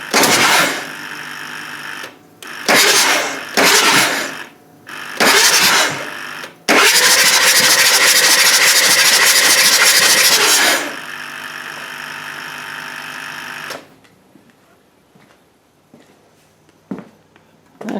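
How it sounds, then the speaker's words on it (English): A 7.3 Powerstroke diesel engine is cranked over with its glow plugs removed, giving loud, rapid chugging bursts in several short stretches and then one long sustained crank before stopping, with faint clatter trailing afterward. "we can go ahead and crank this over and evacuate any oil or fuel that's in these cylinders"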